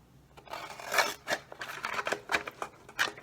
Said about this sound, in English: so now we're going to cut the top, and we're going to cut just a little bit into the curve